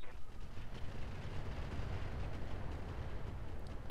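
Mech weapons firing in the video game Roguetech, a dense, rumbling roar of heavy explosive fire that stays loud and unbroken, with no talking.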